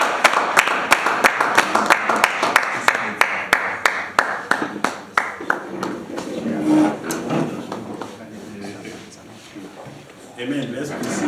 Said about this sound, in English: Gentlemen, let us rise and applause as we welcome Professor Augustine.